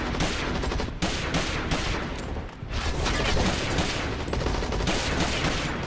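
Gunfire in the shooter video game Hazard Ops, where a pistol is fired at long range: dense, rapid overlapping shots roll on almost continuously with only brief dips, loud and close, with no talking.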